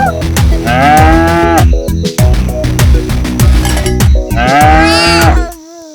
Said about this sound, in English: I'm a cow that says moo moo moo, moo moo moo moo moo.